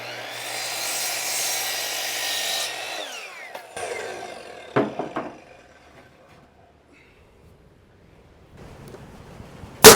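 A saw cuts through a wooden wall stud during wall framing: a steady, rasping cut for about three seconds stops abruptly, followed by scattered knocks and clatter of timber, then quiet.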